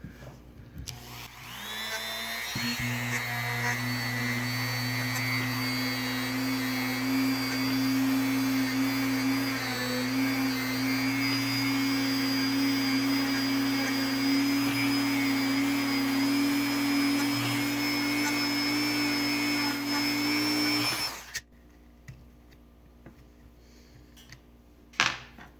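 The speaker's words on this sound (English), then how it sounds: "I've been using a brass wire wheel and not a steel wire wheel because the brass is a softer wire wheel and won't damage it" A small conical brass wire wheel spins on a power tool, cleaning the centers of three-piece wheels, making a loud, steady, high-pitched whine that runs unbroken for about twenty seconds and then stops abruptly.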